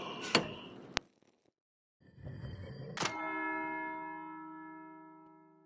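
A monastery bell in the video game Pentiment rings out for dinner, two sharp struck strokes followed by a long ringing decay that fades slowly.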